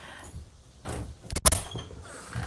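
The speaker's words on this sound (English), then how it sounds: "Close the door." A bathroom door swung and handled at close range, a soft scrape followed by a sharp knock or latch click, then quieter movement.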